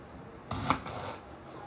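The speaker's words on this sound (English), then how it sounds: "And I start cutting." A kitchen knife slices through peppers on a cutting board, one quiet crisp chop followed by a soft scrape, alone in a calm room.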